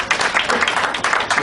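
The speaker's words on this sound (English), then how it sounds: "Round of applause." Short burst of applause from a comedy club audience at a stand-up show, close and fairly loud, uneven clapping lasting just over a second.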